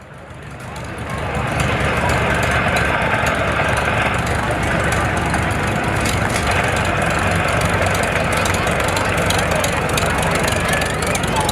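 An antique Farmall M tractor from the late 1940s–50s runs steadily at a parade, a loud, continuous engine drone that swells in during the first second and holds, with a voice talking over it.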